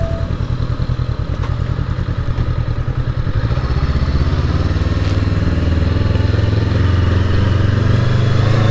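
Steady engine drone of a Honda NX500 motorcycle on a long Scottish road ride, a loud continuous rumble with slight rising revs and wind noise, close up and without talk.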